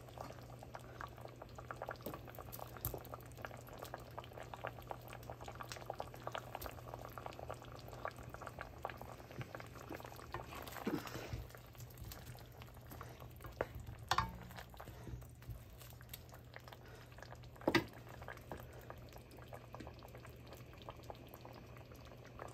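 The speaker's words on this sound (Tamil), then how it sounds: "இப்போ கொதிக்கட்டும்." A pot of egg curry with boiled potatoes bubbles at a steady rolling boil, close and continuous, with a low hum underneath and a couple of sharper clinks.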